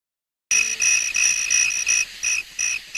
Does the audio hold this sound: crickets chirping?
yes